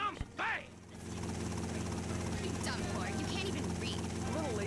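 Helicopter rotor in GTA: Vice City Stories, a steady mechanical whir and throb running continuously under game noise and chatter, with a brief burst at the start.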